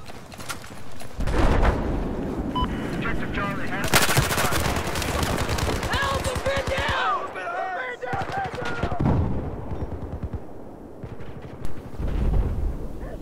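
Battlefield 4 multiplayer firefight with bursts of automatic gunfire and heavier blasts, loud and up close, coming in waves across the scene while players talk between the shots.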